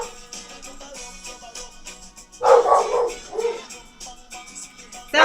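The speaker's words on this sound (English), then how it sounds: "Sorry for the barking, but that's what happens when you have pets." A pet dog named Ripley barks indoors at the door of a home. One loud burst of sharp barks comes close to the microphone, then quieter yips, and a final bark at the end rises over faint background tones.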